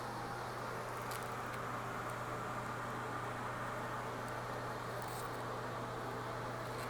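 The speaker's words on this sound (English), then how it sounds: "The sound from the fan is loud" A bathroom exhaust fan runs in a luxury rental home, a steady, even whir with a low hum and no other sounds over it.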